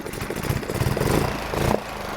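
A Suzuki outboard motor, just repaired, idles steadily up close with a rough, even engine rumble and no talk over it.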